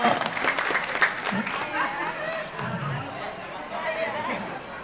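An audience at a Maulid sermon at SMK Islam Cendikia breaks into applause, loud at first and then thinning into a low crowd murmur with scattered claps and a voice speaking through it.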